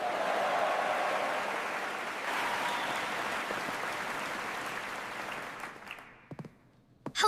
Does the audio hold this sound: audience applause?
yes